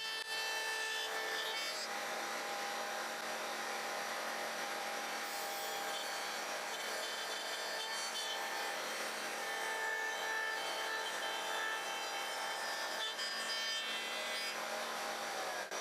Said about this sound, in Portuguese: faço várias passadas, levantando a fresa um pouco a cada vez até que, por fim, atravesso completamente a peça